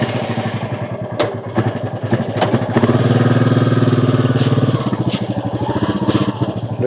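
Motorcycle engine running at a steady idle, a close, even throbbing rumble that swells briefly as it revs, with people talking faintly in the background.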